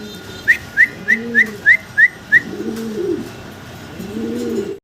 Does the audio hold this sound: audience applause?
no